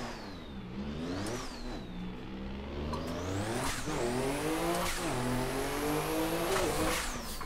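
Drift car engine in Assetto Corsa with a Link ECU car pack, revving hard and rising and falling through repeated throttle blips and gear changes with a clutch kick, holding a loud steady drone with faint tire squeal.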